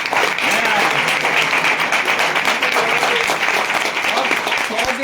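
Steady audience applause fills a hall at a business plan presentation, dense clapping continuing evenly throughout with faint voices underneath.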